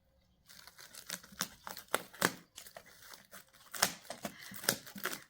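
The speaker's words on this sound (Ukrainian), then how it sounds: "І тож розпаковую." Parcel packaging being unpacked, with a close, irregular run of crinkling plastic and sharp tearing rips in quick bursts throughout, no talking.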